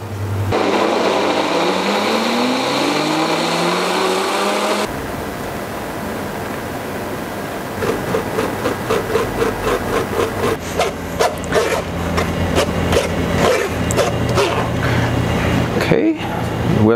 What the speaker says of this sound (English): Okay, we're done with the blender.